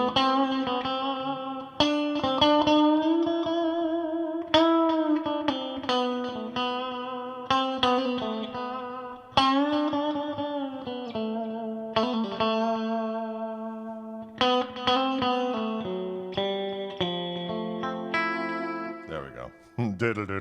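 Electric guitar played by Greg Koch live in the Orange Room with an echo effect switched on, a run of bright picked notes and bends repeating and trailing under a distorted, effected tone.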